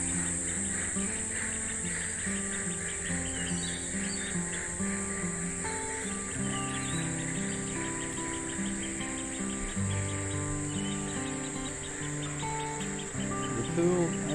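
Frogs and insects calling from a hotel frog habitat at Palm Cove, a dense steady chorus of overlapping trills and chirps that carries on throughout, fairly faint and with no talk.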